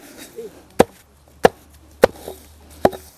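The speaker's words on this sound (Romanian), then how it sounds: "să te înduri, să tai din ea, că e destul de lungă, Nastasie." Hemp stalks being cut by hand at a village hemp festival: four sharp, separate chopping strikes spaced roughly half a second to a second apart, close and crisp, with faint background sounds between blows.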